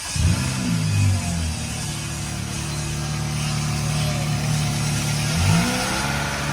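A 2019 Honda Civic Sport with its K20C2 engine cold-starting, the starter whir catching into a loud, steady high idle that holds throughout, close up and alone, with a slight flare near the end.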